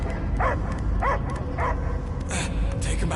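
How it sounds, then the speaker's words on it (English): Dog barking in the Guardians of the Galaxy video game, several short yelping barks spaced about half a second apart, mixed with game sounds and voices speaking. "I hear only barking."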